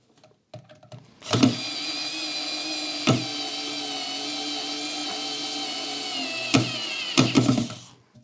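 A Parkside electric screwdriver with interchangeable heads whirs in a steady high-pitched motor drone for several seconds, with sharp clicks as it starts and stops and a few brief bursts before winding down.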